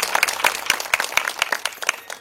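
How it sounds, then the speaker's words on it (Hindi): Lively clapping from the crowd at a religious katha gathering honours a singer, with sharp, close hand claps in an uneven quick rhythm. "इनके लिए जोरदार तालियां।"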